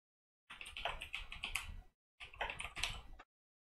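Quick clattering keystrokes on a computer keyboard as a phrase is typed, two close, quiet bursts with a short pause between them.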